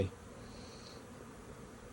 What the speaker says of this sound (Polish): w tej chwili to pszczoły latają zdecydowanie mniej niż 2 godziny temu